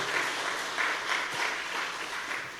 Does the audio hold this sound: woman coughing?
no